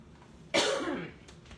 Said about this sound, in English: I still have my cough.